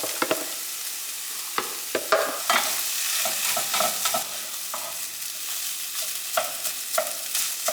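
Ground turkey and rice stirred and scraped around a hot frying pan, with a soft sizzle beneath repeated close spoon scrapes and taps, no voices.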